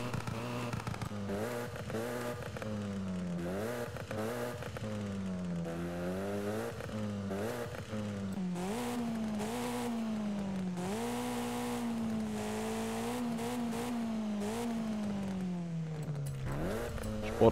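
A Hyundai i30 engine revs in Forza Horizon 5, a steady, loud drone with pitch rising and falling through repeated rev sweeps, climbing and holding high before dropping near the end, with no voices over it.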